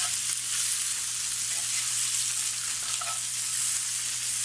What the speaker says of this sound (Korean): 이렇게 그럼 기름에다 대고 이제 튀기는 거예요.